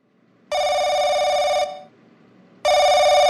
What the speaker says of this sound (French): Le téléphone a trop sonné.